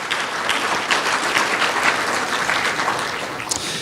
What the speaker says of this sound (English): Please give them a round of applause and thank them for the work that they do.